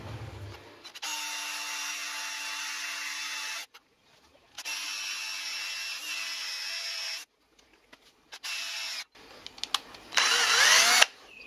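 A drill bores bolt holes into a milling machine housing during a milling table and vice restoration. It gives three long, steady whining runs, close and loud, separated by brief silences, then scattered knocks and a harsher final burst.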